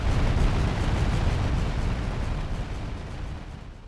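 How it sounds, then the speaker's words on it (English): A huge explosion in GTA Vice City Stories, a loud sustained low rumbling blast that fills the whole moment and slowly fades, with no talking over it. "it all culminates on you ramping out of a giant explosion like you are Carl Weathers."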